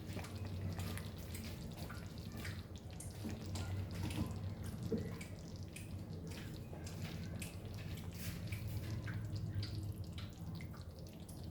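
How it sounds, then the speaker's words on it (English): Water poured into a pot of mutton curry in red gravy, a steady soft splashing and trickling that runs on without a break, fairly faint, with no voices. "We'll add 1 cup of water to this and cover and cook."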